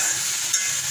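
Cubed onion stalks, salted, sizzle in oil for one brief second, a steady hiss with a single soft stir.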